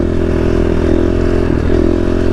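A KTM dual sport motorcycle rides down a gravel road on street tires, its engine a loud steady drone close to the microphone, with gravel rattle and wind rumble underneath and no speech.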